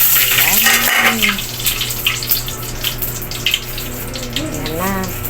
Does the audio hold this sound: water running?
yes